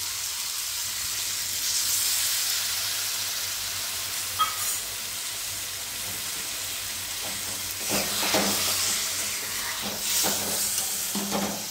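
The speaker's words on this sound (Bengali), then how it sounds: "আমি এতে সামান্য একটু মশলার জলটা দিয়ে দিচ্ছি।" Spiced water poured into a pan of hot tinda masala curry sets off a loud, continuous sizzle and hiss, with a few sharper crackles and bursts of steam near the end.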